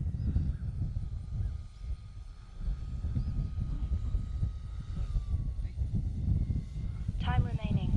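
E-flite Night Timber X radio-controlled airplane flying, a continuous motor drone heard outdoors at moderate distance beneath a talking voice.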